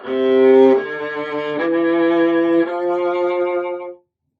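Deep, rich bowed notes on a viola's low string, a few long strokes descending then settling, played solo and close, ending abruptly.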